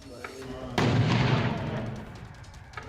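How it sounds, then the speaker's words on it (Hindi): A deep, rumbling blast from security forces blowing up a truck erupts suddenly and slowly fades, following faint background noise. "सुरक्षा बल ने एक के बाद एक 6 धमाके कर ट्रक को जला दिया।"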